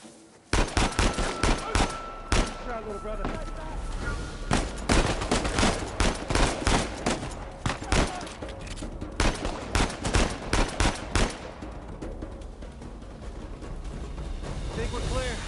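Heavy gunfire from a firefight in the video game Uncharted 4, loud bursts and single shots cracking in irregular clusters for most of the stretch, with a voice talking over the shooting.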